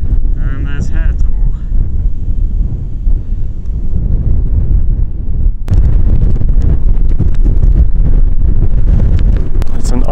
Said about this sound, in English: It's an icy wind